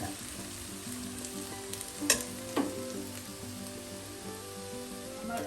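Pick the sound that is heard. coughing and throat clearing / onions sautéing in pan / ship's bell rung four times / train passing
onions sautéing in pan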